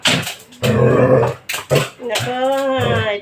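A dog growls and yelps in a tense indoor scene, its rough snarling and whining close and loud, mixed with a person's raised voice.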